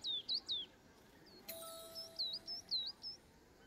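Short bird chirps and whistled calls from the video game Alba: a Wildlife Adventure, a few quick bright notes, a pause, then a run of repeated chirps over soft ambient background.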